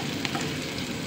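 Onion and garlic sizzle in olive oil in a cooking pot, a steady close frying hiss with faint crackles and no talk.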